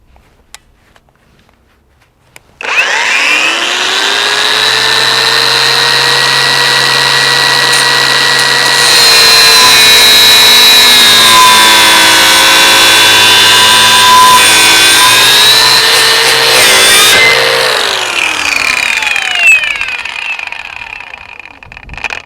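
Litheli U20 cordless angle grinder cutting through metal with a small disc: the motor spins up sharply, then holds a loud, steady high-pitched whine while grinding, before winding down and fading at the end.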